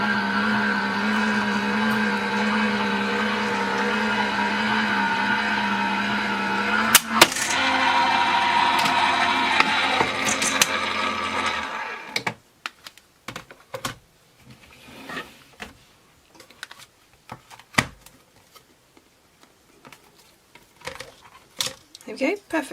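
A Gemini Junior die cutting machine runs with a loud, steady motorized hum and whine for about twelve seconds, then stops. Scattered clicks and handling noises follow as plates are moved.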